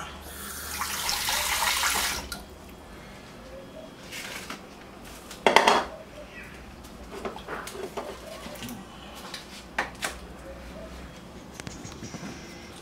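Water gushes from a kitchen tap into a sink for a couple of seconds, followed by clattering dishes and utensils, occasional splashes, and faint voices nearby.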